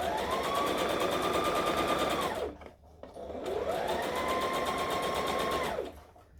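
A sewing machine stitches through heavy maxi dress fabric in two steady bursts of rapid, buzzing needle strokes, winding up and slowing down each time, with a short pause between them. No voices are heard.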